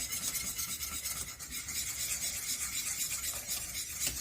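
A wooden spoon scrapes and rubs through thickening pap, a maize porridge, in a pot, a continuous gritty rasping stir that stays close and fairly loud, with no talking.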